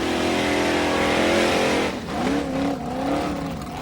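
An off-road competition car at the 1997 Jósepsdalur World Cup round, on very large tyres, revs hard with a loud steady engine roar that drops away, then rises and falls again in wavering bursts.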